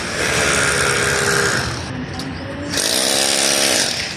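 A power drill whines loudly and steadily while holes are bored during a solar panel installation at a school, stopping briefly midway before revving again, close by.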